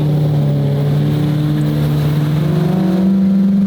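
A rear-wheel-drive Lamborghini with an e-gear transmission and its stock exhaust gives a loud, steady, low engine drone that swells slightly near the end, with no talking over it.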